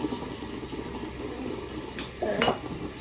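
Water from a tap runs as hair is wetted, a soft steady trickle with a brief louder splash near the end.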